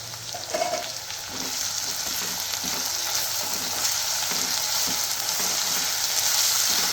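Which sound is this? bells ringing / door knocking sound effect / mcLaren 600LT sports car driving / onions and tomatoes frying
onions and tomatoes frying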